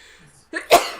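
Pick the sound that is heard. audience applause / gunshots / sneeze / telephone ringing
sneeze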